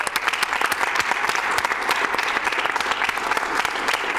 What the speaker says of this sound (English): Can we have some clap clap for the French restream?